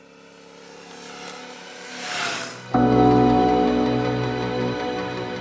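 A Royal Enfield Super Meteor 650 cruiser rides past: a rising whoosh builds, then a steady, harmonic engine note settles in and holds, with no talking.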